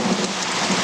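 Heavy rain pours steadily during a thunderstorm in Sierra Leone, a dense, loud hiss with a low rumble beneath it and no voices.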